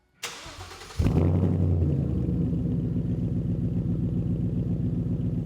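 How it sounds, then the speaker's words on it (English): A 2015-2017 Ford Mustang GT with an MRT KR axle-back exhaust cranks and starts, then settles into a deep, rumbling idle with a steady pulsing exhaust, close and loud. "Nice deep tone at idle."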